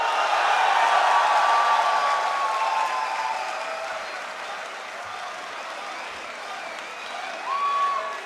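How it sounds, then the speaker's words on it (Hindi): Broad audience applause at a mushaira in Lahore welcoming the poet Ali Zaryoun, loud at first and then easing to a softer, sustained patter, with a brief whistle or cry near the end. "आप सब की भरपूर तालियों में तशरीफ लाएंगे अली ज़रियून"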